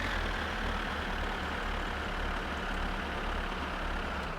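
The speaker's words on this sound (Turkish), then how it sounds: "Şu traktörümüzü bir alalım şuradan hızlıca ileriye." A tractor engine in the game My Summer Car drones steadily at low pitch, a loud, continuous diesel rumble with no break or voices.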